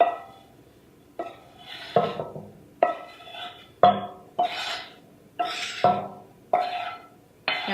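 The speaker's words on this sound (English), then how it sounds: "now into that pot, we're going to put our sausage." Cooked sausage dropped into a pot, a series of about eight clanks and scrapes of a utensil against metal at roughly one-second intervals, each with a short rattling tail, close and clear with no talk.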